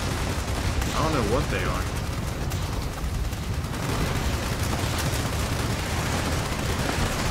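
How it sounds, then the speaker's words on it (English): Many players in Fallout 76 firing on a tough boss at once, a dense continuous barrage of overlapping gunfire and blasts, with someone talking briefly over it. "The amount of players that's shooting this thing and it's still not dead."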